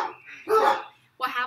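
Dogs in a home bark and yip in a few short bursts heard in the background, with a brief pause before a final bark.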